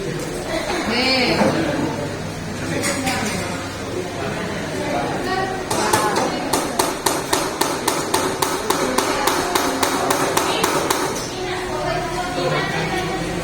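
Steady rapid hammer blows ring out in a busy classroom group activity, a quick regular run of sharp metallic strikes mid-clip, with people chatting and talking throughout.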